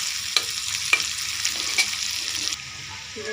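Two large onions fry in fish oil, giving a continuous soft sizzle with a few sharp clicks of stirring near the start. The sizzle drops away abruptly toward the end.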